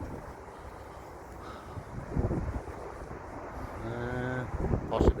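Wind gusting across an exposed hilltop park at Boston Castle in Rotherham, overlooking Canklow Woods, a steady rumbling buffet on the microphone that swells louder midway, with a brief voiced sound near the end.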